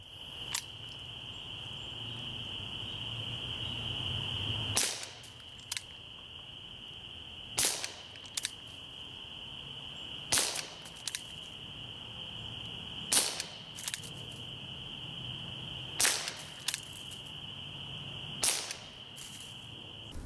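A Gamo PR-776 pellet revolver air gun fires at targets indoors, sharp isolated cracks spaced a few seconds apart with faint metallic ticks between them, over a steady high electrical whine.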